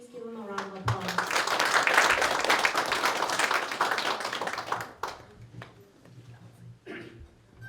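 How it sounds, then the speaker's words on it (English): Audience applause at the grand opening of a Hmong American center, a dense burst of clapping that swells for about five seconds and then thins out, with voices underneath. "Please give him a round of applause."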